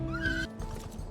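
Horse in a video game neighs with a rising whinny, then hooves clip-clop steadily at a riding pace, close and clear with no talking.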